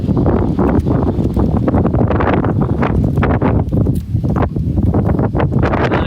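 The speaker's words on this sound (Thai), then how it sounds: "ลมมันแรงไปนิดนึง" Strong gusting wind at Khao Yai, with rain approaching, buffets the microphone in heavy, uneven rumbling bursts that continue throughout.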